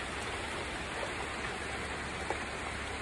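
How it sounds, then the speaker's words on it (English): Heavy rain pouring steadily among huge trees, a dense, even hiss of falling water with no pauses, close and loud throughout. "And the rain is huge right now."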